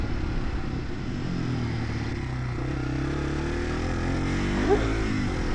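A Yamaha TW200 motorcycle rides along a New Jersey trail, its engine a steady close drone throughout, with a brief clatter or bump near the end.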